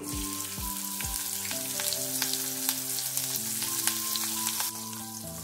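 Mustard seeds, cumin, asafoetida and chillies frying in hot oil for Mumbai vada pav, a steady close sizzle with scattered sharp pops and crackles, under a low background hum and no talk.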